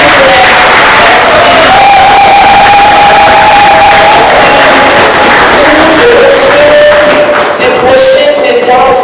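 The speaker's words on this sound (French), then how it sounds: "Applaudissez encore." A large crowd at a women's network launch event in Congo applauds and cheers loudly, with shouts and whoops over continuous clapping, alongside sustained high, tonal voices.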